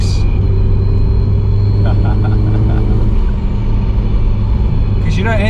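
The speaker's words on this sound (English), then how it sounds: "Oh, the sound of that gearbox." A 450 bhp Audi TT Quattro Sport accelerates with a loud, constant engine and gearbox drone that fills the cabin, heard from inside the car, with voices talking over the roar.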